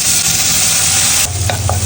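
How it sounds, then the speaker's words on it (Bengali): Garlic sizzling in melted butter in a pan, a steady loud frying hiss throughout, with a couple of faint stirring scrapes near the end. "রসুনটাকে একটু হালকা ফ্রাই করতে হবে, ব্রাউন করতে হবে।"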